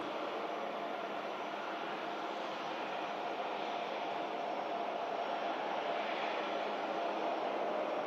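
An SAS Scandinavian airliner taxiing at Manchester Airport, its jet engines a steady, distant broadband roar and whine that holds even and unbroken throughout.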